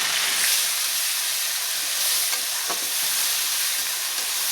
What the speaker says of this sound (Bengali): এখন আমি পেঁয়াজ বাটা আর রসুন বাটাটা একসঙ্গে কষিয়ে নেব